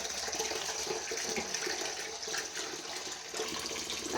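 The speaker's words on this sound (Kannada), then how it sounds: "ಹಾಗೆ ಸ್ವಲ್ಪ ನೀರನ್ನು ಹಾಕ್ಕೊಂಡು 1 ನಿಮಿಷ, ಜಸ್ಟ್ 1 ನಿಮಿಷ ನೆನೆ ಹಾಕ್ಕೊಳ್ತಾ ಇದ್ದೀನಿ." Water splashes and trickles steadily onto flattened rice (poha) set to soak for upma, a close, continuous pouring sound with no voices.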